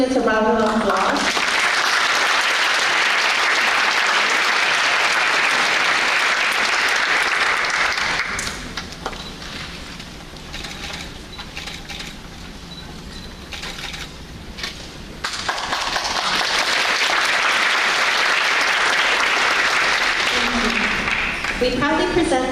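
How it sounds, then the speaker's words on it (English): Loud audience applause for scholarship students at a university scholarship ceremony, dense clapping that dips into a quieter, murmuring stretch midway before swelling again just as strongly. "Please give all these students a round of applause."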